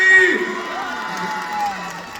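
A concert audience cheers, whoops and shouts in a lively burst, dense crowd voices filling the room at moderate loudness, with scattered calls rising over the din.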